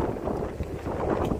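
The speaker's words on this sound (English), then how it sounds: "The winds still gust now and then." Wind gusting along the Appalachian Trail near Carter Gap Shelter after rain, a steady broadband rush with low rumbling buffets against the microphone throughout, no speech.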